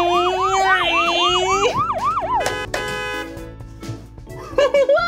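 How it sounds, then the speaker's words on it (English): A fire truck's wailing siren sweeps up and down loudly at close range, interrupted by sharp, blaring blasts of its air horn, with a lower whooping siren tone returning near the end. "that horn was really loud."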